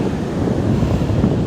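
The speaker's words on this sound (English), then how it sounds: "So the wind is blowing a little bit" Steady wind roars over a beach with surf rumbling underneath, a dense continuous low-heavy rush with no voices, close to the microphone.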